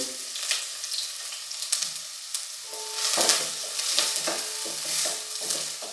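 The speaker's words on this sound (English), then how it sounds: "Now keep the pan hot, add oil, add onion, 2 chopped medium" Two chopped medium onions fry in hot oil in a pan, a bright sizzle broken by repeated stirring scrapes and clinks that grow busier toward the end, near and fairly loud, without speech.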